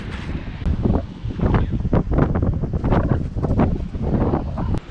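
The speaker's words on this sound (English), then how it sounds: "A little windy" Gusty wind buffets the microphone in rough, continuous bursts at a beach on the Olympic Peninsula, with a faint wash of surf underneath; no one speaks.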